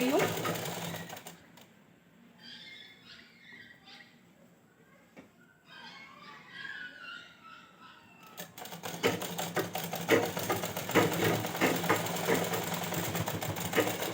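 A sewing machine stitching the lining of a ghaghra skirt, heard as a fast, steady mechanical rattle at the start and then continuously through the second half, with someone talking during the quieter middle stretch.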